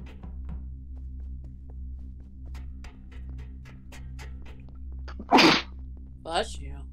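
One loud, sudden human sneeze bursts out close by over a steady low hum, followed by a short exhale; otherwise quiet with faint taps.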